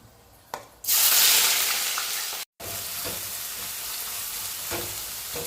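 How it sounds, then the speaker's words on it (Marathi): Chopped onion dropped into hot oil for chicken biryani bursts into a loud, steady sizzle that fills the clip, holding strong with a brief gap midway and continuing as the onions fry. "तेल गरम झालं आहे, त्याच्यामध्ये आता आपण कांदा टाकतोय."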